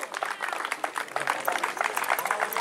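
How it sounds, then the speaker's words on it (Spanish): Audience applause at a horse racing classic presentation in Chivilcoy, a dense patter of many hands clapping at moderate distance, steady throughout with a voice faintly mixed in. "Fuerte el aplauso, vamos, fuerte el aplauso."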